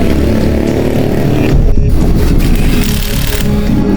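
A motorcycle engine runs loud and close after six years, giving a steady, rough idle with a deep rumble and a brief dip in its note partway through.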